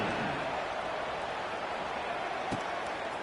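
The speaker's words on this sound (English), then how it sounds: "this crowd is buzzing after that last score" A stadium crowd at a Stanford vs Ohio State football game keeps up a steady, distant roar like rushing rain, with one brief sharper thump near the end.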